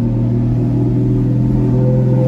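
A new car's engine droning steadily and loudly while it is being driven, a constant low rumble with no clear rise or fall in pitch and no talking over it.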